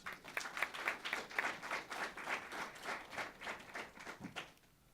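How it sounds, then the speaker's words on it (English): Audience at a university head football coach press conference applauding, a faint, fairly distant ripple of clapping that swells and fades in waves, tapering off near the end. "Would you give him a round of applause, please?"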